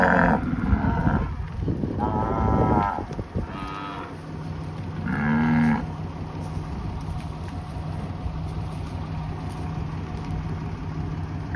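A Brahman bull on a Texas ranch moos several times up close, long rising and falling bellows in the first half, then a quieter stretch with a low engine idling in the background.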